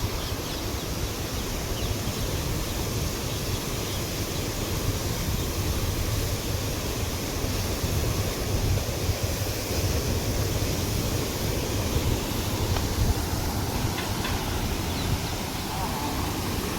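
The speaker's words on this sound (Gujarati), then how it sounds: "એક દરવાજો ખુલ્લો છે અને એનો પ્રેશર બી કેટલું ફાસ્ટ છે જોવો તમે" Water from an open gate of the Rayadi dam gushes under pressure into the river below, a loud, steady broadband roar that stays constant throughout and covers everything else.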